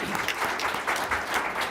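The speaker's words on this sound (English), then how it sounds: "Love all the applause." An audience at a school board of education meeting claps in a short, steady burst of applause heard at moderate distance, with no speech over it.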